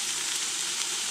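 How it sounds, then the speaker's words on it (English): Pork sizzles steadily as it browns in a hot pressure cooker pot, a dense crackling hiss that stays even throughout. "Sizzle."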